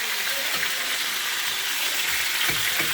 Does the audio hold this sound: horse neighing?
no